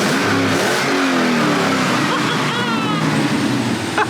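A C5 Corvette in need of work roars into life and revs loudly up close, a rising engine note that fades back toward a rumbling idle within a few seconds.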